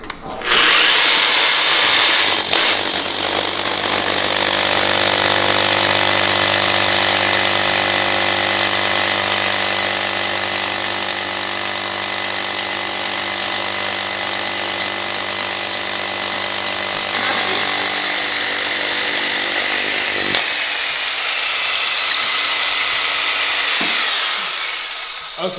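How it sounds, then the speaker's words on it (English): A loud hammer drill grinds into concrete for an anchor bolt hole for over twenty seconds, a harsh continuous rattling roar that fades out near the end. "So I'm gonna drill one hole and let the boys drill the rest"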